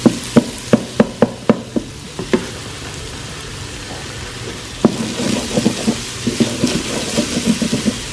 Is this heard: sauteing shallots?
yes